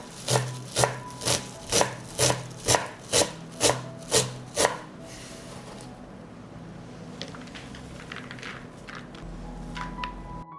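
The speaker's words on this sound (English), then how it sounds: "And finally, I will cut the parsley." A knife chops parsley on a wooden board in about ten steady, evenly spaced strokes, close and crisp, followed by quieter scraping and light rustling as the chopping stops.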